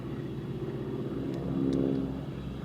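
A steady, deep radial engine drone from a Pratt & Whitney 450 rumbles throughout, swelling slightly louder midway, like a big piston aircraft passing at a distance, at the Flying Legends air show, Duxford.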